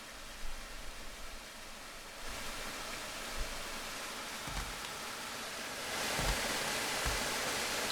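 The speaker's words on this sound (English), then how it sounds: "we're going to focus on the waterfall." A waterfall rushes in a steady, dense roar of falling water that swells louder partway through, with a few low thumps of handling noise and no talk.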